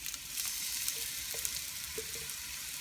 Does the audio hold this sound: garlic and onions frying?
yes